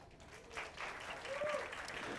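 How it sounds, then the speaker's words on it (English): A masterclass audience claps briefly for preferred partners, a short burst of scattered clapping that builds after a moment, with a voice speaking over it. "If you're not, just clap for them real quick."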